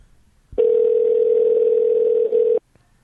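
A telephone dial tone sounds as a call is placed, one steady loud continuous tone lasting about two seconds, with a very brief dip near the end before it cuts off into quiet.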